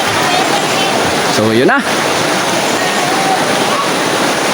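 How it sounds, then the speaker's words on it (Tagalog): Water pours down from above like a shower at Hubason Cool Spring in Carmen, Surigao del Sur, Philippines, a loud, steady rushing hiss throughout, with someone speaking briefly over it. "Tsaka may tubig dyan oh. Nagaling po sa itaas. Ayan, parang shower na rin."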